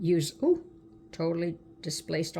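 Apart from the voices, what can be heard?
No distinct noise like a dog, phone or traffic.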